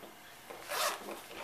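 A short zipper pulled open, a quick rising rasp lasting under a second, close and fairly quiet.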